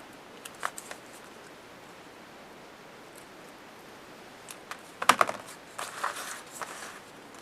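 Scissors cut out a paper card piece for a handmade clock card, with a few quiet snips early on and a closer cluster of crisp cuts and paper rustles near the end.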